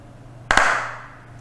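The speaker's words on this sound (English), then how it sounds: "that was a clap track" A single sharp hand clap from a clap track played back during a recording latency test, sounding loud and close, followed by a short decaying room tail, alone against a faint steady hum.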